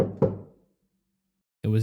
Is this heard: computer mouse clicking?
no